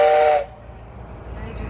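A tourist train in Arizona lets out a loud, steady whistle that stops abruptly after a short blast, leaving a low rumble and hiss from the train.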